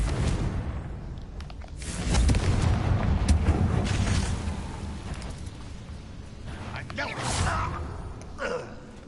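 A Confringo fire spell blasts in Hogwarts Legacy, producing rumbling explosive bursts that surge at a couple of points and fade over several seconds, with a character's voice talking amid the noise.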